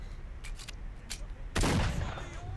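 Gunfire in S.T.A.L.K.E.R.: Shadow of Chernobyl, with a few quick shots early on and then a heavier close burst, heard over a constant ambient rumble.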